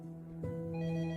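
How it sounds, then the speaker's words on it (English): A telephone rings in a quiet room, a steady tonal ring that swells after a brief softer start and holds close and clear with no voices. "Myers' phone rang"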